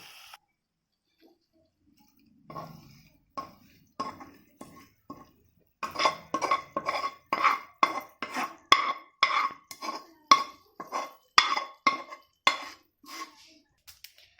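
A spoon scrapes cooked masala potatoes from a pan into a small bowl in a home kitchen, a run of quick, close metallic taps and clinks in a steady rhythm after a quiet start.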